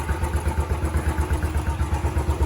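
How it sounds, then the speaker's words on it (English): A Royal Enfield Classic 500 Stealth Black motorcycle idles with a steady, loping single-cylinder thump, close up and fairly loud, its even beat running throughout with no voices. "sound like a bike with attitude, does it?"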